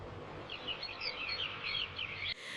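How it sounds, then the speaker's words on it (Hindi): Small birds chirp and tweet in a forest, a busy scatter of bright calls over steady soft background noise, ending in a sudden hiss. "जंगल में हर तरफ चिड़ियों की चहचहाहट, पत्तों की सरसराहट और धूप की सुनहरी किरणें बिखरी थीं।"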